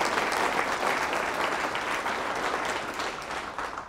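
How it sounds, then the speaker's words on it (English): An audience at a university all-hands meeting claps in sustained, dense applause, loud and even throughout, with no talk over it. "et's give Kim and the entire Backyard Farmer a round of applause."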